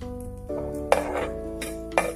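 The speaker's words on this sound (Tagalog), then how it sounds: "Igisa po natin yung sibuyas natin." Onions sautéed in a pan for papaya pickles, with metal utensils clinking and scraping against the pan in a few sharp strikes over a soft background hum.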